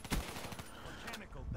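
The Kuda submachine gun in Black Ops 3 fires a quick rattling burst near the start, followed by scattered shots and game ambience at a fairly low level.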